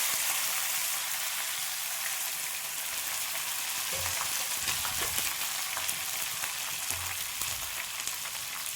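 Bitter gourd frying in oil for a thokku, a dense, crackling sizzle that stays loud and constant throughout, with a few low clunks of a pan or utensil midway.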